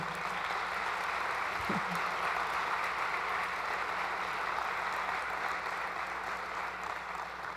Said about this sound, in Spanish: Por ahí escuché unos aplausos y qué merecidos son.